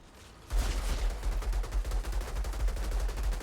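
Rapid pistol fire in the video game Outriders crackles in a fast, steady string of shots, starting abruptly after a brief quiet moment and continuing loud to the end.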